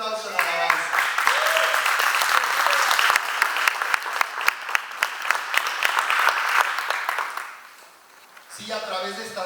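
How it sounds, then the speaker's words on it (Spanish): A church congregation claps loudly during a worship service, dense sustained applause that thins and dips near the end before picking up again, with voices carrying over it. "Dale un fuerte aplauso en la alabanza"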